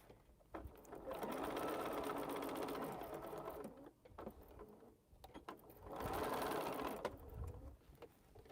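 A sewing machine set up for quilting runs in two long, even bursts of rapid stitching, close and clear, with a short pause and light handling noises between them.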